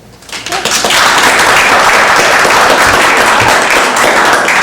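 Warm applause from an audience greeting author Sherri Dobay at Book Passage bookstore in Corte Madera, rising quickly to a steady, dense clapping that holds for several seconds without talk.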